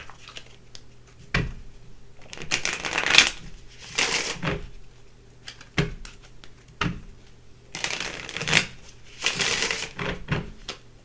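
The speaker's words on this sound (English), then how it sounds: "let me get another couple of shuffles here" Tarot cards being shuffled in several quick riffling bursts with pauses between, close and crisp, no talking.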